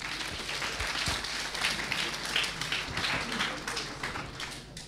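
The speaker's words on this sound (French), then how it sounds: "C'est le moment où vous l'applaudissez." An audience at an innovation event applauds a speaker coming on stage, steady dense clapping heard at moderate distance without talk.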